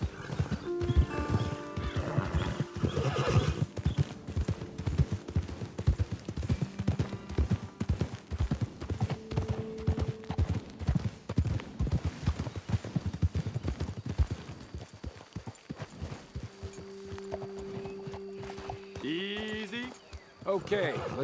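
Horses in Red Dead Redemption 2 give a steady, rapid clip-clop of hooves on a trail, with neighs and whinnies rising above. Riders talk over the hoofbeats before the horses slow and stop near the end.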